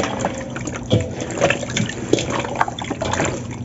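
Water pouring into a bucket for a fried-chicken brine, a steady liquid rush with a few louder splashes as it fills, close and continuous, with no talk over it.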